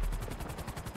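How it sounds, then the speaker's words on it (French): Rapid, dense rotor chop of a Merryweather attack helicopter in GTA Online, loud and steady, with a pulsing rhythm overhead mixed with gunfire-like bursts and no talk. "y'a l'hélicoptère de chez Meriwether qui est là en haut, regarde dans le ciel"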